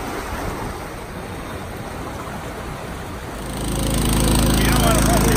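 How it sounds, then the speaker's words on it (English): Water from a fish ladder on the Nemasket River is pumped into a herring tank, a steady rushing wash that swells louder near the end as a motor-driven pump drone joins in. "Get ready to pump some water out of the ladder here into the tank."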